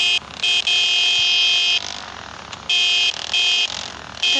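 A vehicle horn honks in loud, sustained blasts, four or five of them in quick succession with short breaks between, standing out sharply over a low rumble.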